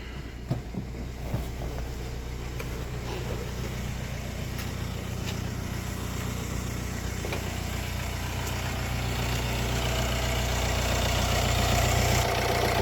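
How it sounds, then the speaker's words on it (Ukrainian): A Kia Sportage 1.7 D4FD diesel engine idles close by, a low even rumble holding constant throughout with no revving, a faint rise in level near the end. "Мотор працює рівно, без сторонніх звуків"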